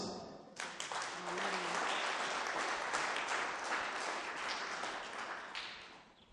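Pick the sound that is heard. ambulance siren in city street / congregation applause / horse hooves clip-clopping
congregation applause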